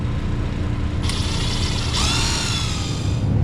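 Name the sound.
screws being put back into a LAARS Pennant boiler cover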